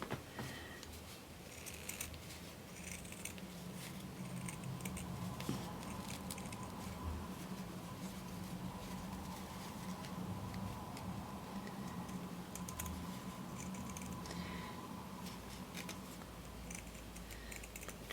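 Scissors snipping through fabric for scrappy angel ornaments, a long run of small close ticking cuts at a steady pace over a faint background hum.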